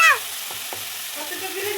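Shredded cabbage and peas sautéing in a kadai, a brief close sizzle with a couple of quick stirring scrapes of the spatula.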